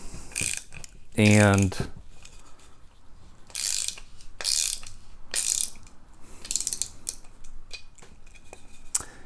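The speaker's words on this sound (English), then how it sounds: "yeah, that was actually easy with the ratchet." Ratchet turning an M6 threaded insert into wood, giving a rapid buzzing run of clicks followed by several separate bursts of ratcheting close by, with a brief spoken word.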